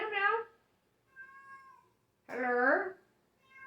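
A cat gives a few short meows, two stronger cries around a softer middle one, close and clear against a quiet background in an audiobook reading setting.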